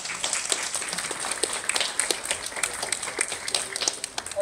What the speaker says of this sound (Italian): diamo un applauso